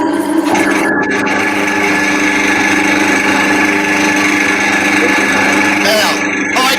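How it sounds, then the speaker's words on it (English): A wood lathe spins up and runs steadily, giving a continuous loud mechanical hum and whir with broadband rumble that holds for the whole stretch, close by, with no talk over it. "So start the lathe up while you step off to the side."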